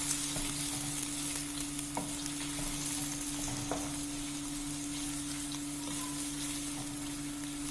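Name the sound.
onions frying in a pan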